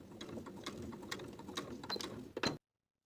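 A sewing machine stitches steadily for a couple of seconds while basting a loop in place on a button-front shirt, quiet and close, ending abruptly.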